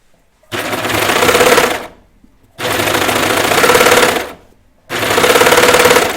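A sewing machine stitches knit T-shirt fabric in three loud, close bursts of rapid needle chatter, each lasting over a second with brief silent pauses between.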